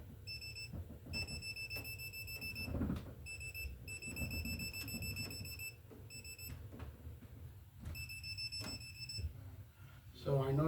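A circuit tester beeps at a breaker panel in a series of sharp, loud electronic tones in bursts, some sustained and some broken, with short pauses between.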